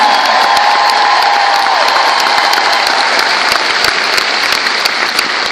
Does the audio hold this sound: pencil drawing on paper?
no